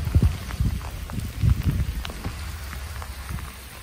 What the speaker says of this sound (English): Pretty rainy.